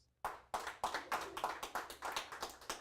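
A small audience claps in response to a question, a sparse run of about eight or nine separate handclaps that begins after a brief silence, starts loud and grows softer and more uneven, with no talking.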